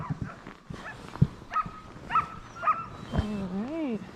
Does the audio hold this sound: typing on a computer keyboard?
no